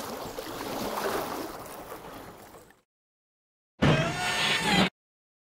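Kayak on open water, a wash of water and wind for a few seconds, then a short burst of splashing water after a silent gap, moderately loud with no voices.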